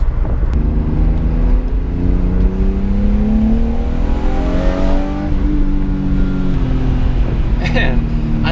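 A car engine climbs in revs as the VANOS variable valve timing engages around 5,200 rpm, its rising harmonic whine sweeping upward close by over road noise, with no talk over it.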